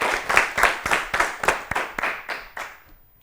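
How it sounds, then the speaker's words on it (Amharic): Children clap together on a kids' television quiz show after a correct answer: about a dozen sharp, rhythmic claps in a steady beat, close and clear, fading out at the end. "ጎጆ ቤት። አጨብጭቡላችሁ።"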